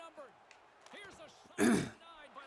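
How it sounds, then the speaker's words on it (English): A single short, rough throat clearing bursts out close to the microphone amid faint background murmur. "I had to clear my throat"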